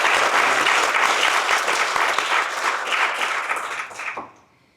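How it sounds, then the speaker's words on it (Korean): Audience at a Seoul National University College of Natural Sciences anniversary event applauds a guest professor's lecture, steady dense clapping that holds for about four seconds, then thins and fades out quickly. "감사의 박수 다시 한번 부탁드립니다"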